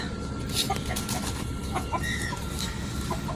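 Four-month-old Shamo chickens clucking close by in a farmyard, soft repeated clucks over steady background noise, with faint voices in the distance.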